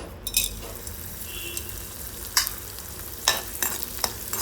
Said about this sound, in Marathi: तर आता डिंक तळून घेऊया